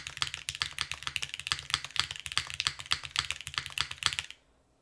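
Fast, steady clacky typing on a Tiga mechanical keyboard by Machina, dense close keystrokes with deeper thocks throughout, stopping abruptly near the end, no talking.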